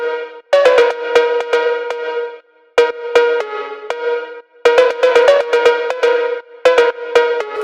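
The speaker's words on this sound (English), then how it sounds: "So then we have the famous cowbell lead." A bright, metallic cowbell-like synth lead for phonk house plays short, punchy repeated notes in syncopated phrases, loud and alone.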